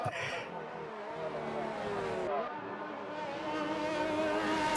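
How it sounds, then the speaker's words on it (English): Race car engine in a Monaco racing video game, a continuous high, whining drone whose pitch rises and falls as the car shifts, with no voices over it. "The sound of Deja Vu's engine is going on"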